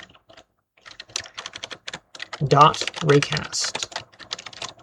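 Keystrokes on a computer keyboard patter in short bursts while someone talks over them, typing code into the Unity editor.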